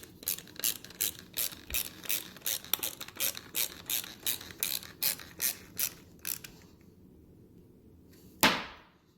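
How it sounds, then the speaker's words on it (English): Repeated ratcheting clicks from a T20 Torx driver turning screws back into a 2012–2014 Dodge Charger interior panel during a paddle shifter install, a steady run of close, evenly spaced clicks, then a short scrape at the end. "We're just going to screw these back in here with the T20 Torx."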